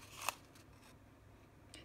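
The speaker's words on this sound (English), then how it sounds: "my paper snips and snip off this bottom little rectangle formed by the intersecting score lines" Paper snips cutting off a small scored rectangle of cardstock for a tiny Christmas treat box, one crisp close snip followed by a fainter second cut, quiet and brief.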